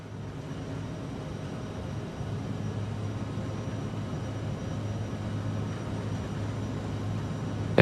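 Aerosoft CRJ-700ER jet engines at takeoff thrust in MSFS 2020, a steady, broad roar with a low hum beneath that swells slightly partway through and holds, with no talk.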